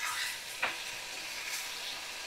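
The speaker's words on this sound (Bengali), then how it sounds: "তো ভালো করে আমি কষিয়ে নিচ্ছি মশলাগুলো," Ground spices fry in a pan with oil while being stirred, a steady close sizzle with a quick scraping stir stroke early on and no talking.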